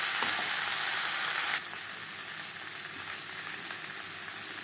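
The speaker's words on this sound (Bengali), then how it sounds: "মশলার সাথে আলু বেশ ভালো করে ভাজা হয়ে গেছে" Steady sizzling of potatoes frying with spices in a hot pan, loud at first and then a little softer, with no voices.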